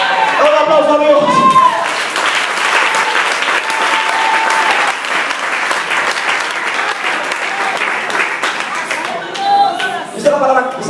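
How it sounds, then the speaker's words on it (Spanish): Church congregation applauding together in a sustained, dense burst of clapping during a Spanish-language worship service, with voices and cheers mixed in at the start and end. "Un aplauso a Dios."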